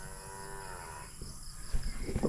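A cow in a hillside field on a Philippine island lets out a long low moo, fairly close and alone, followed by wind and outdoor rustling.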